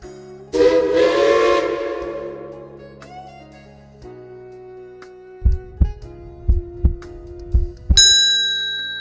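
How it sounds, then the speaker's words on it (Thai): A train sound effect: a long whistle blast, then a few rhythmic low chugging beats, ending with a bright bell-like ding. "หมดเวลาค่ะสเฉลยเทรน รถไฟ เทรน รถไฟ"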